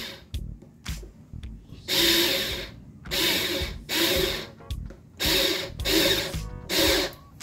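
An INGCO 8V cordless portable drill drives a screw in a series of short whirring bursts, about five separate pulls of the trigger with brief pauses between them, heard close and clear with no talking.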